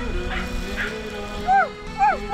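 A dog barks twice in short, sharp yelps near the end, after some thin whimpering, with a low murmur of voices and background noise throughout.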